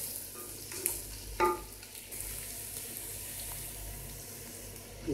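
Onions sautéing in a pan for a fish curry, with a steady broadband sizzle and a few louder scrapes and stirs of the spoon, close by and with no talking.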